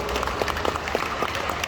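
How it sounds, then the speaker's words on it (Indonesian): Short burst of applause from an indoor audience at a talk show event, scattered, uneven claps packed closely together over a brief moment, with no voices heard. "Tepuk tangan dulu dong."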